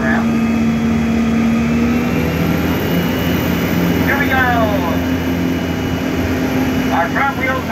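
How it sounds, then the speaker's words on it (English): An amphibious tour vehicle on a seal tour in San Diego drives at full throttle in the water toward a ramp, a loud continuous engine drone with a steady hum, while a guide talks over it. "Now he's going to go full throttle until our front wheels touch the ramp."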